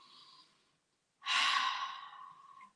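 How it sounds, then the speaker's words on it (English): A single deep, breathy inhale or sigh taken before speaking, clearly audible and close, following a quieter breath and a short pause, with no words spoken. "so let me take a breath"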